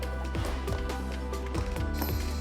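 A ratchet tightens a fastener on a raised LED MOLLE panel on a Toyota Tacoma center console. It makes rapid, close, loud clicking runs in several bursts, with a mechanical pawl rhythm and no talking.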